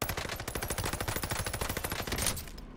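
Rapid sustained automatic fire from an STG 44 assault rifle in the video game Warzone Caldera, a fast even burst of shots, loud and close, lasting nearly three seconds before cutting off.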